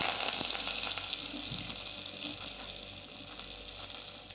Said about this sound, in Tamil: கடுகு வெந்தயம் நல்லா பொரியட்டும்.